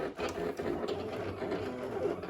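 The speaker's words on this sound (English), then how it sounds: "let's grab this design, okay, and send it to the printer" A vinyl cutter cuts out a design for lacrosse dyeing, giving a steady mechanical whir and rattle that runs continuously at moderate, close level with small rhythmic ticks throughout.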